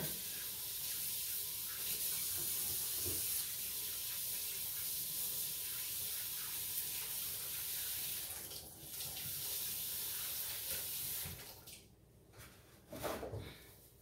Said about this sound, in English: Get my hands a quick wash here.